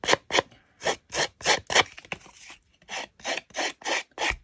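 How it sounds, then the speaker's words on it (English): Scissors blade scraped along a paper card edge to distress it for vintage mixed media, a string of about thirteen short, rhythmic rasping strokes, close and fairly loud, with no talking. "Let's do it with these scissors here. I'm going to distress this."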